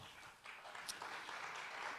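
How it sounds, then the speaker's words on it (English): Faint theater audience applause, a brief patch of scattered clapping that stays soft and distant throughout. "Give them a round of applause."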